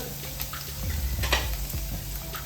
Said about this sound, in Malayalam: ഒരു 4 വെളുത്തുള്ളി ചതച്ചത് അതിട്ട് കൊടുത്ത്